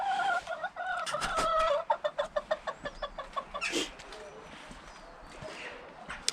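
Chickens cluck nearby in a quick run of short, rhythmic calls, with a few higher squawks mixed in against a quiet outdoor background.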